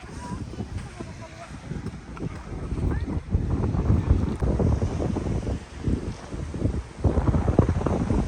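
Gusty wind buffets the microphone at a beach, rumbling and rising in strong bursts, with voices faintly mixed in.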